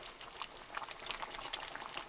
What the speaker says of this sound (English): I'm just going to let this cook for about another 5 minutes because it's already starting to thicken up pretty good